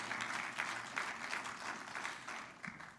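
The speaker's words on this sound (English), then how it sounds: "Can we all hear a round of applause for President Trump" Steady applause from a crowd at an event with President Trump, fairly soft and a little distant, continuing evenly throughout with no voices.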